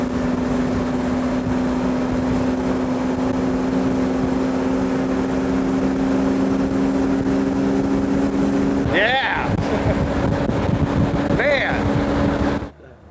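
Jay Leno's Duesenberg, a classic car with solid front and rear axles, cruising at 70 mph, giving a steady engine and road drone with heavy wind rush. A vehicle briefly passes near the end before the sound cuts off.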